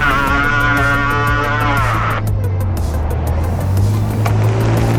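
Addmotor M66 moped-style e-bike pulling away hard on its throttle, a rising motor whine and road rumble building steadily and loud before settling into a steady hum, with a faint rhythmic ticking throughout.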